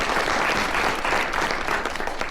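Audience at a quilt show breaks into steady, dense applause, many hands clapping together loudly and continuously throughout.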